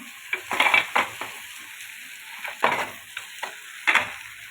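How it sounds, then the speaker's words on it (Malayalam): Pepper chicken being stirred in a pan, with a few irregular bursts of scraping spoon strokes over a low sizzle and quiet gaps between them, no voices. "നന്നായിട്ടൊന്ന് ഇളക്കി കൊടുക്കുക"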